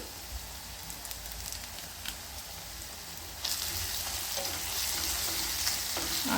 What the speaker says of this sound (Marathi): कांदे थोडेसे मऊ पडले अजून एकदम एक मिनटं आपल्याला परतून घ्यायचे परत तोपर्यंत त्याच्यामध्ये छान असा कढीपत्ता फ्रेश आणला मी तो टाकून घेते